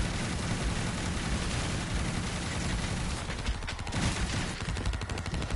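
Shotgun fire in the video game Dead Ops Arcade, rendered as a dense, continuous barrage of loud gunfire with rapid overlapping blasts and no clear gaps throughout.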